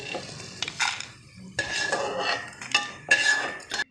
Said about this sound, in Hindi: तकरीबन 1 मिनट आपने इसको बस थोड़ा सा हिलाना है, ये आपकी बस भुन जाएगी।